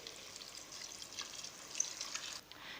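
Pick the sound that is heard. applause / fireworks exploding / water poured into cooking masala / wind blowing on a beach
water poured into cooking masala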